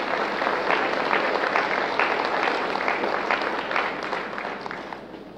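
An audience applauds the outgoing armed forces Chief of Staff at a formal change-of-command ceremony, a dense sustained clapping from a sizable crowd, steady then slowly fading.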